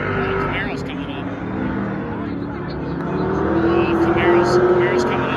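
A Camaro race car growls around a dirt track, engine noise rising as it comes closer through the field, with an announcer talking over the steady roar of the cars.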